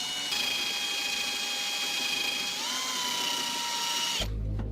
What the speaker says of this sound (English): We just want to drill off the top layer, so then we've got something to weld onto